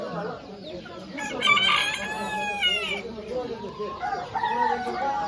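An Orpington rooster crows loudly and close by at a poultry market, one long drawn-out call rising over clucking hens and background chatter of people talking.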